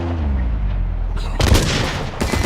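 Pistol shots ring out in a video game, two abrupt loud cracks about a second apart after a quieter low-rumbling stretch.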